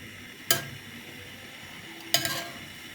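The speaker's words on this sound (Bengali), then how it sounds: "দিয়ে নাড়াচাড়া করা হচ্ছে। মাংস কষানো হচ্ছে।" Beef and liver braising in a pot are stirred with a utensil, giving two faint, brief scraping clinks against the pot over a quiet background.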